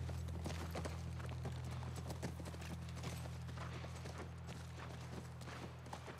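Horse hooves clip-clop steadily on a hard surface in the video game The Last of Us Part I, a continuous brisk rhythm over a low droning background.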